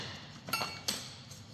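Two sharp metallic taps of a hammer on Dacia Duster front brake parts during a pad and disc change, close and fairly quiet, spaced about a third of a second apart over faint background noise.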